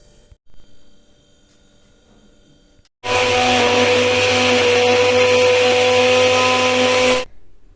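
A kitchen blender mixes a mango shake with milk, starting suddenly with a loud steady whirring drone that runs for about four seconds and then stops abruptly. Quiet room noise comes before it.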